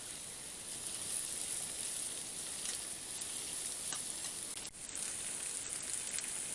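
Onion and egg omelet sizzling in a hot frying pan, a steady close crackling hiss that runs unbroken with only a brief dip partway through, and no voices over it.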